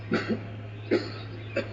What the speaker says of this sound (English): That wretched cough.